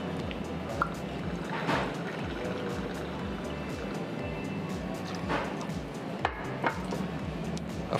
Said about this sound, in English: I add 60 ml. That is a double shot of the infused gin.